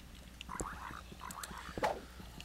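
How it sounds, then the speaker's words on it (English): Frogs croak faintly at night in modded Minecraft, with a few soft, scattered croaks over low ambient game noise. "You can hear the frogs and the owls and stuff"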